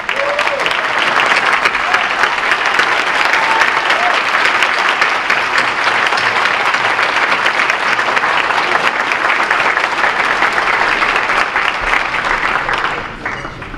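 A hometown crowd at the Windsor Shad Derby coronation gives retiring Chief Searles a long, loud, steady round of applause and cheering that holds strong for about thirteen seconds before starting to taper off at the end.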